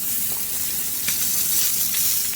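Salmon skin fries in a hot pan with a steady, close sizzle and crackle that holds at an even loudness throughout, with a faint pop or two rising above the hiss.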